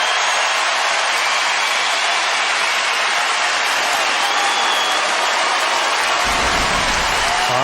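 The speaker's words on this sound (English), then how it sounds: "Obviously, the crowd is pumped up" A tennis crowd at the 2006 US Open final between Federer and Roddick applauds in a dense, sustained roar of clapping and cheering, with a low rumble entering near the end.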